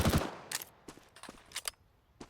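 Weapon fire from Counter-Strike 2: a few sharp gunshots spaced irregularly over about two seconds, crisp and close, with no voices.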